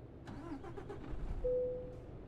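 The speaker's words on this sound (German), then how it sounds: "Dann würde ich einfach mal den Motor anmachen" A Mercedes Actros truck engine in Euro Truck Simulator 2 cranks over with a few short starter pulses, then catches and settles into a steady low idle, fairly quiet and with no talking.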